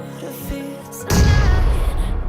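A grenade goes off in the mobile battle-royale game PUBG Mobile, a heavy boom with a rumbling tail that follows a few soft in-game clicks and thuds, loud and close.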